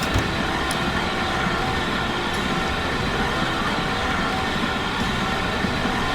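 A full train runs along a UK mainline route toward West Mersea in the simulation game Transport Fever 2, giving a steady, continuous rumble of rolling stock with no break in level and no voices over it.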